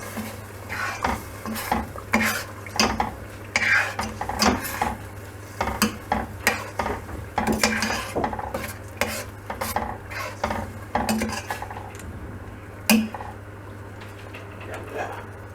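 A spoon repeatedly scrapes and clinks against a pot while yogurt is stirred into biryani masala, making an uneven rhythm of knocks and wet stirring over a low sizzle and a steady background hum.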